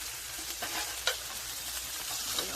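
Ratatouille vegetables with dried thyme being stirred in a pan over the heat, a steady close sizzle with soft scraping strokes and one sharper clink near the middle, with no talking.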